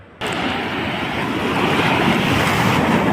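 Sea waves on the beach at Digha: after a brief moment of near silence, loud, continuous surf washes in and roars steadily close to the microphone, with wind mixed in and no voices.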